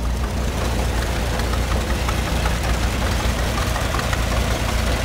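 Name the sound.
John Deere GP tractor engine running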